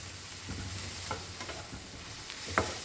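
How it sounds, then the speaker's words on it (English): Vegetables for a Goan-style vegetable pulao fry in a pan with a steady, close sizzle, broken by a few soft stirring scrapes and one sharper clack near the end. "Make it like 10 to 15 minutes till your vegetables are nicely fried"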